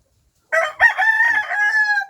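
Pet rooster of the bulik chicken type crowing once up close, a loud drawn-out cock-a-doodle-doo of about a second and a half, alone with no talking.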